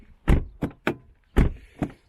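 Doors of a Volvo S80 2.4 D5 sedan shutting and being handled: five solid thunks in an uneven sequence, close and fairly quiet, with no voices.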